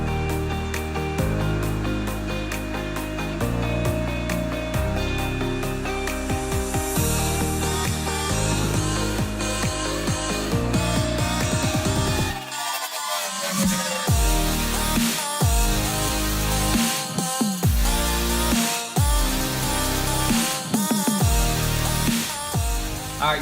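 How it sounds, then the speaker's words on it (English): An electric polishing buffer loaded with 3M rubbing compound runs across the hood of a wrecked 2014 Dodge Viper, a loud continuous motor whir with repeated dips and surges as the pad is pressed and lifted. "So I'm gonna set up my buffer real quick and start buffing."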